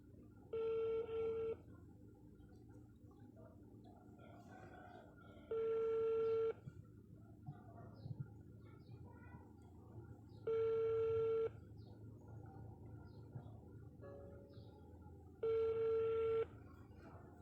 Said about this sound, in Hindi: मैं तूबा के नंबर पर मसलसल फ़ोन कर रही हूँ लेकिन तूबा इग्नोर कर रही है मुझे